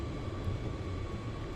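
An airliner, an A359 in Flight Simulator 2024, rolls for takeoff, giving a steady low engine drone with a faint high whine throughout.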